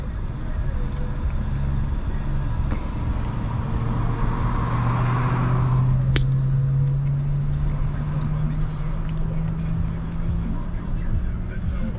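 A 2003 SVT Mustang Cobra on the road, its engine note rising steadily as it accelerates, loud and close with a constant road and wind roar beneath.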